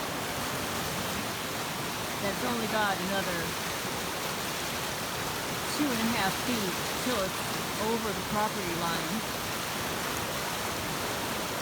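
A roaring county creek swollen after heavy August rains rushes steadily with a broad, continuous wash of water, while a person talks over it and birds chirp faintly in the background.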